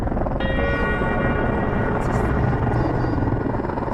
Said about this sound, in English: It's 24 hours before we see our first helicopter.